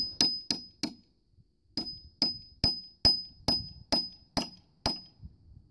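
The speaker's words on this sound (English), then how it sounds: "That pinging you hear is coming out of the cat's paw, not out of my hammer" Sharp metallic pings from a cat's paw pry bar struck repeatedly by a hammer on rusted pallet nails, about a dozen ringing hits in an uneven rhythm with a brief pause, each leaving a short bright ring.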